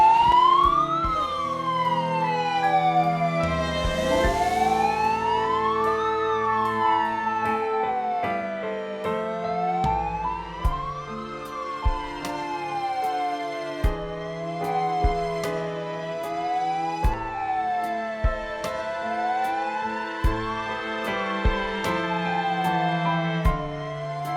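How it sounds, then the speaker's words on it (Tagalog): An ambulance siren wails in a continuous rising and falling cycle for over twenty seconds, loud and close, with short knocks and thumps scattered beneath it and no talking. "nandiyan na po yung ambulansya"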